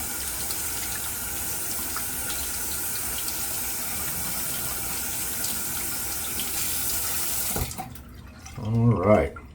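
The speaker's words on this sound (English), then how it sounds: "So let's get the brush wet" Paint brush dipped and swished in a water container while painting Cajun Blade; steady broadband wash of running water for most of the clip, then a few louder splashing sloshes near the end.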